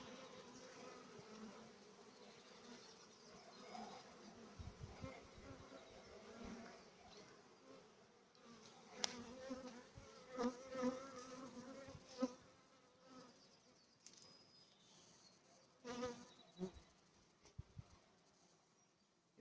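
A steady, dense hum of many honeybees buzzing up close at an apiary, with occasional louder passes and faint clicks and rustles.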